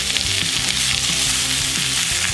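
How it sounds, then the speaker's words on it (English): Spinach sautéing in a little butter in a pan, a dense, steady close sizzle with faint stirring clatter, no voices. "We're gonna start by sauteing up the spinach in a little bit of butter so it's nice and wilted"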